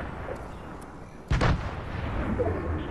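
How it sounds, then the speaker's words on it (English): A single sharp blast from a thrown grenade in a video game bursts out midway, standing clearly above a quieter background of game ambience. "I'm throwing a grenade."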